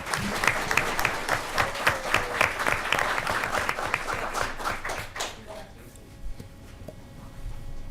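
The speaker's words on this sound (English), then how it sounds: "another round of applause for our students" Audience applause for students at a school board of education meeting, dense clapping from a room of people that holds steady for about five seconds and then thins to scattered claps and quiet.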